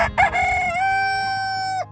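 A rooster crows once, loud and near, a single drawn-out call held for nearly two seconds before trailing off, with faint farmyard background beneath and no voices.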